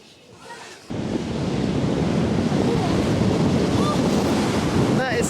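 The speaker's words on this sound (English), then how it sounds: "It's because it's so windy." Strong wind buffets the microphone on a channel seafront, with surf and waves roaring steadily after a brief quieter start; a faint voice is heard under the noise.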